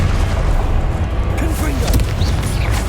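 An Expelliarmus disarming spell cast in the Hogwarts Legacy video game, a short booming magical burst over a dense, loud game soundscape, with a voice talking over it.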